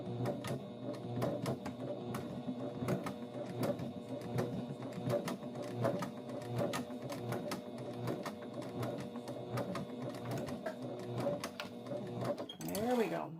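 A sewing machine stitches a cotton bag in a steady, continuous rattling whir from start to finish, with a brief voice just before the end.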